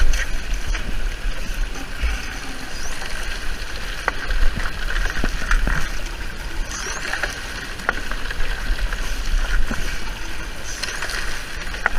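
Water rushes steadily through a Cali Sluicebox during gold sampling, a continuous outdoor wash with occasional small clicks and knocks of gravel and rocks, moderately loud and close.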